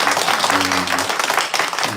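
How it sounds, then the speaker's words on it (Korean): Church congregation clapping together during a Thanksgiving Sunday worship service, a brief steady wash of applause with tonal voices or music sounding faintly through it. "우리 하나님께 영광의 박수 한번"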